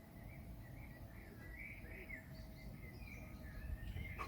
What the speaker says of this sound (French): Et puis il y a plein d'oiseaux.